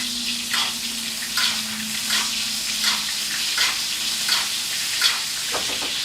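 Porterhouse steak sizzling in a hot pan while being basted, a steady close fry with rhythmic swishes and splashes of spooned fat repeating every second or so, with no talking.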